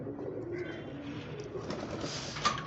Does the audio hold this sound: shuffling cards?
no